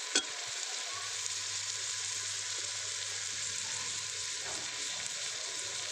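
Potato, pea and carrot curry sizzling in desi ghee on a clay stove, a steady soft frying hiss throughout with a faint low hum and a brief clink at the start.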